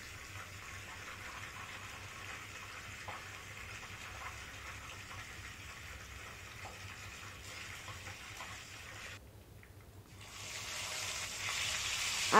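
Fish fry in a pan with a faint, steady hiss of hot oil that dips briefly and then swells louder toward the end; no talking.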